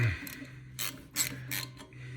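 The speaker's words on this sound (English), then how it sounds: "Got the proper size socket, 6-point on the bleeder. I'm gonna loosen it up." A six-point socket wrench ratchets on a car brake bleeder screw to loosen it, three short rasping clicking bursts close up, separated by brief pauses, no talk.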